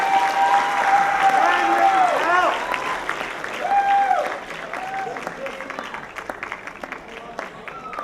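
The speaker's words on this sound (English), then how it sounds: "Everyone, please put a huge round of applause for SASA Board 2012." Crowd applause at a student fashion show fills the room, steady and loud, with cheers and whoops rising over it before the clapping slowly thins out.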